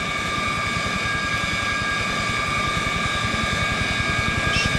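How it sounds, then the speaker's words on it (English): A plane taking off from an aircraft carrier flight deck in Arma 3: a steady, loud jet engine whine with strong high tones over a pulsing low throb, constant throughout with no talk. "The shooter does his job and he gives clearance for the plane to take off."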